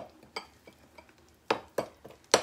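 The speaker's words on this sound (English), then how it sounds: "So we have an egg, a 1/4 cup of oil, a half a cup of pumpkin. Kind of mix this up real good." Egg, oil and pumpkin being mixed in a bowl, a few sharp clinks and scrapes of a utensil against the bowl, close and irregular, with quiet gaps between strikes.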